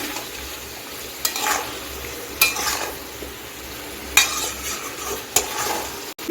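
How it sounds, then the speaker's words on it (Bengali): Eggplant being stir-fried in a pan, a soft steady sizzle with several distinct scraping stirs of the spatula at intervals, close and fairly quiet, no talking. "এখন বেগুনটা দিয়ে দিচ্ছি বেগুনটা একটু কষিয়ে নিচ্ছি"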